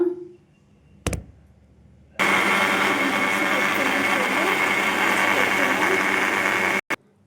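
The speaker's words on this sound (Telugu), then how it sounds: "డక్కన పెట్టుకొని డక్కన పట్టేసుకొని మిక్సీలో పెడతా" A kitchen mixer grinder blends spinach with two green chillies, a loud steady motor whir starting after a brief clatter and running without a break for several seconds before stopping abruptly.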